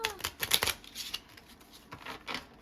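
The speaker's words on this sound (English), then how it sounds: "That was a terrible shuffle." Crisp riffling bursts of cards being shuffled, a quick flurry followed by a few softer ruffles, close and fairly loud with no talking.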